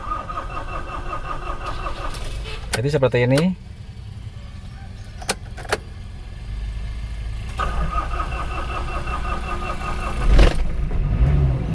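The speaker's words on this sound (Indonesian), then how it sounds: "akan kita coba starter" A Mitsubishi L300 engine cranks with a starter, catches and settles into a rough mid-pitched idle after a few seconds, heard close up with someone talking briefly over it.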